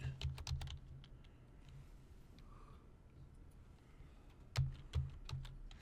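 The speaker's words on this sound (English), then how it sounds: "I'm going to try typing it in again." Quiet clicking of keys on a computer keyboard comes in short bursts, with pauses between flurries of typing.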